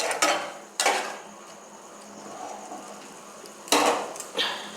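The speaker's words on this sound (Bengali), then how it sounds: "নাড়াচাড়া করব ভিনিগার দিয়ে" A utensil scrapes and clatters against a pan while chowmein is stirred with vinegar, four sharp metallic bursts separated by quiet sizzling, close and fairly loud.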